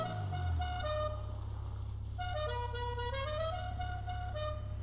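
A loud musical car horn in the GTA 5 video game plays a rising, melodic sequence of tones over a steady low engine hum, with no talking.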